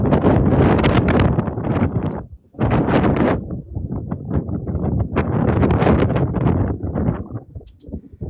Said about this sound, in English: it's not a tornado, it's just windy outside because I'm outside